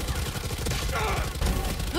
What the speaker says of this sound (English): It sounds like people are shooting guns.